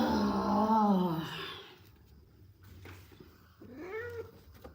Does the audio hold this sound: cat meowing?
yes